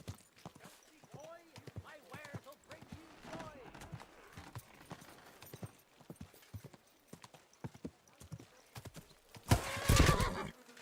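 Horse hooves clip-clop and a horse whinnies in a video game, steady footfalls with a sharp loud neigh near the end, while a voice talks over much of it.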